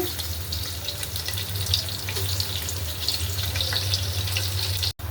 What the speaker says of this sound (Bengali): দিয়ে দিলাম তেল পরিমাণ মতো তো বেশ আমি দিয়ে দিলাম পেঁয়াজ এলাচ দারচিনি